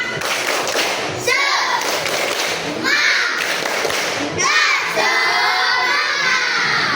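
Fourth-grade schoolchildren at school perform the tepuk semangat clapping chant, with rhythmic group claps and thumps in repeated bursts, shouting voices and an adult leading between rounds.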